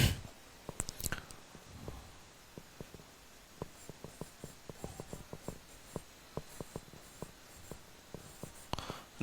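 Marker or chalk writing numbers on a board during a math lesson, a steady run of short, sharp taps and strokes in quick irregular bursts, close and fairly quiet, with no talk.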